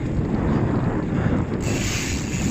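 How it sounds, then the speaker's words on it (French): A three-quarter headwind buffets a cyclist's microphone on a road ride, a constant loud rumbling roar of wind noise with no voices. "je me récupère le vent 3/4 face"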